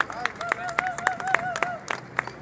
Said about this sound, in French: On peut applaudir, hein?